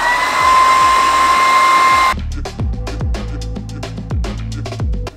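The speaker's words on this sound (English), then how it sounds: "I need to get a new hairdryer." A hair dryer blowing on hair, loud and close: a steady whine for about two seconds, then a rougher, pulsing roar as it is moved around.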